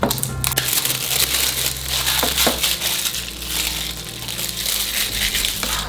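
Outlast 2 limited-run physical edition for Nintendo Switch being unwrapped, with steady close crinkling and crushing of plastic and cardboard packaging, a few sharp clicks and rustles, no talking.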